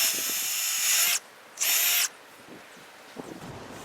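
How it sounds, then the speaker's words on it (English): A power drill pre-drills wood for trellis screws in two bursts of high whine, a long run then a short one, close by, followed by quiet handling sounds. "I'm going to run 2 screws in the end of these, but I need to pre-drill so that these won't"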